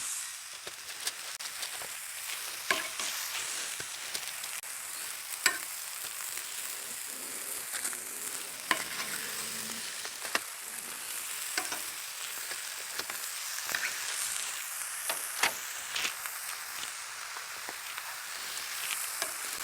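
Seasoned chipotle pork loin sizzles on an oiled griddle, a steady close hiss dotted with frequent sharp crackles and pops that carry on throughout without speech.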